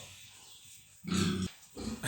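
Pigs being driven in and out of a pen let out two loud, close grunts after a quiet stretch of low rustling, the second grunt short and abrupt.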